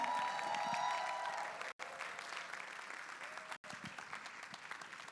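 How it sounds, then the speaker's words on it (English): Conference audience applauds steadily as a keynote speaker is welcomed onstage, a sustained wash of clapping from a seated crowd heard at a moderate distance. "Please don't stop clapping until she comes up."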